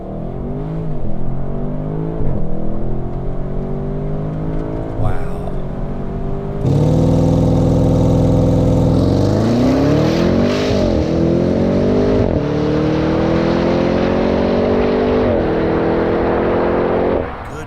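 A 2021 Audi RS6 Avant launches hard from a power-braked standstill on a wet road, its engine roaring loud and close as it climbs through rising revs with sharp gear-change breaks, staying strong to the end.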